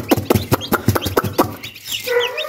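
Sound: hen and chicks clucking

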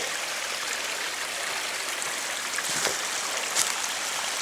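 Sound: waterfall flowing from a rock into a stream

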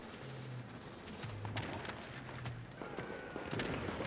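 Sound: gunfire in video game The Division

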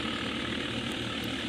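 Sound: tractor engine running

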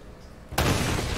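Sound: rubble exploding after being shot in the video game Uncharted: Drake's Fortune

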